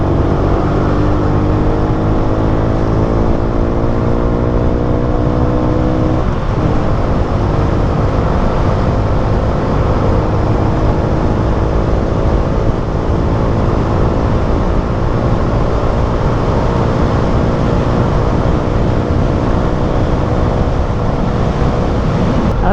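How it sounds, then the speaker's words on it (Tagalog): A Honda XRM 125 motorcycle engine runs steadily while riding, a loud continuous drone with harmonic tones that shift in pitch early on, then hold, plus constant wind and road rush throughout. "parang ang ganda na ng tunog ng makina, di ba?"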